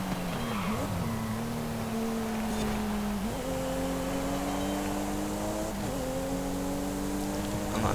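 A Toyota GR Supra (2020) racing in Forza Horizon 5, engine droning loud and close as the revs climb, with a couple of quick automatic gear shifts dropping and rising the pitch.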